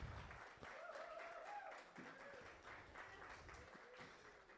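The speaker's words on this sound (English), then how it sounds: "That's how you clap for yourself," At a university student orientation, a crowd of students claps for themselves, a moderate, continuous patter of many hands with brief voices and murmurs underneath.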